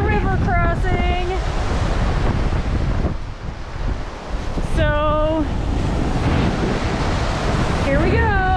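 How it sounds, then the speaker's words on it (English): Raging surf rolls in on the Lake Superior shore with a steady roar and gusty wind buffeting the microphone, while a brief voice cuts in over the crashing water. "some raging waves rolling in"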